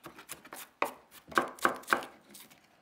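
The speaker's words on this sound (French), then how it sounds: "Je vais l'émincer." A knife slices through a spring onion on a cutting board, a series of crisp close chops, several light cuts followed by three louder evenly spaced thuds, then fading.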